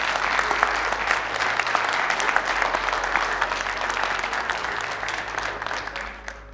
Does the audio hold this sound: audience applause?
yes